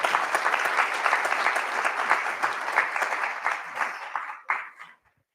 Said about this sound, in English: I think he deserves an applause